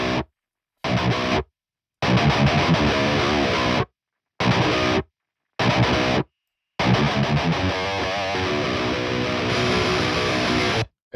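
Heavily distorted electric guitar through a Bogren Digital amp plugin with a custom cab, a Ribbon 160 mic and two overdrive pedals, playing tight stop-start riffs separated by abrupt silences, then sustained chugging.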